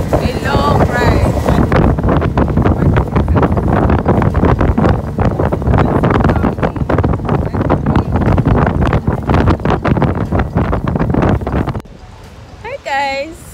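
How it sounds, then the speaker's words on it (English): Strong wind buffets the microphone at a beach, a loud continuous roar that dominates most of the stretch before dropping away near the end, with voices talking over it at the start and close. "so we made it to the beach and it's really pretty"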